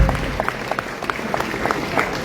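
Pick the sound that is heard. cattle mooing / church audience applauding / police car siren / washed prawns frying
church audience applauding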